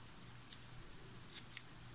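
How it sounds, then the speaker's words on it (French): Tim Holtz craft scissors snipping through a piece of foam during a scrapbooking product test, heard as two quick, crisp cuts near the end over a quiet room background, with a fainter snip earlier. "Je vais faire la même chose avec les Tim Holtz."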